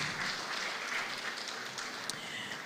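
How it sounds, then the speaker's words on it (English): Applause from the audience at a media sustainability conference in Nigeria, a steady, even wash of many hands clapping at moderate level for nearly three seconds with no talk over it. "Please give Malan Kabir a round of applause"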